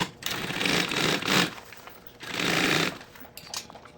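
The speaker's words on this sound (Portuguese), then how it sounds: "E agora eu vou passar uma costura segurando esse forro, tá?" A sewing machine stitches the lining of a handbag in two sustained bursts of rapid mechanical chatter, loud and close, with a quieter pause between them and a short trailing bit at the end.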